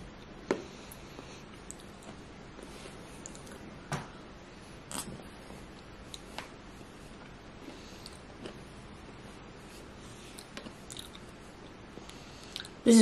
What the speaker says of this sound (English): I almost didn't chew it correctly. So a bit of banana.